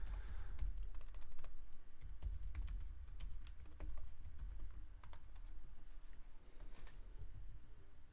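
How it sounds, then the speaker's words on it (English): Typing on a computer keyboard: quick, irregular key clicks rattle continuously at a low, close level over a faint background hum, with no speech. "I'll start typing these in the chat so you guys hear them sooner."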